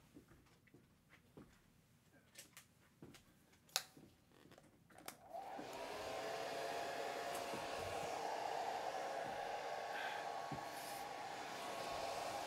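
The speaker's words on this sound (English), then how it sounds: "I'm going to have to blow dry this." A hair dryer starts up midway and blows steadily and loudly over a wet watercolor landscape painting, after a few seconds of quiet clicks and handling sounds.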